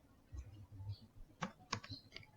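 A few quiet keystrokes click on a computer keyboard as a short command is typed, soft and close, with small gaps between the taps.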